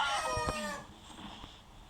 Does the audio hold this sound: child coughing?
no